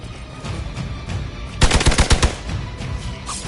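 Machine-gun fire in the video game Marvel's Midnight Suns, one loud rapid burst of about eight shots lasting under a second, set against low rumbling background noise.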